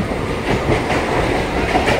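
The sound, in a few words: crowded passenger train running on rails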